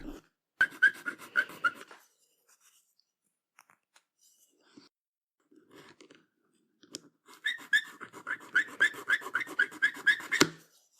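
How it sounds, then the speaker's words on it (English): A small plastic miniature model part is filed by hand in two bursts of quick, rhythmic back-and-forth rasping strokes, close and fairly faint, separated by a few seconds of near silence with light handling noises. "More cutting. More filing."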